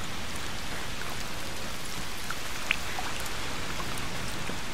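Steady, dense rain falls in the game A Plague Tale: Requiem, an even wash of drops hitting surfaces that stays constant and fairly close, with no other sound in front of it.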